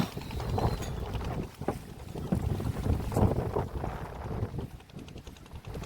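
A boat runs on water during prawn fishing with a net, its steady motor rumble and water wash mixed with buffeting wind noise on the microphone, loud and continuous throughout.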